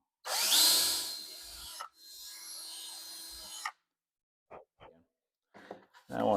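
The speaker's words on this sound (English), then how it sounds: "I've got a 1/16 of an inch drill bit in my drill, and I'm going to go through and drill down through the roadbed" An electric drill with a 1/16 inch bit bores down through model railway roadbed, two close whining bursts of a couple of seconds each, then quiet with a few soft clicks and handling noises.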